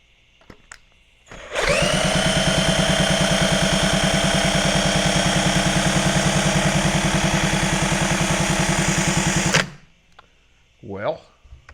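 The engine of a 1964 Honda Super Cub CA102 motorcycle churns loudly and close by in a steady, rapid mechanical drone for about eight seconds, then cuts off abruptly, leaving quiet with faint handling noises.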